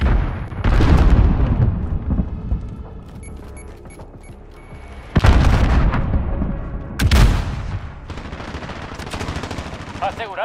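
Heavy gunfire rattles in a Call of Duty: Modern Warfare multiplayer match, with loud sustained automatic bursts, a lull, then fresh volleys and booming impacts, all close and dense.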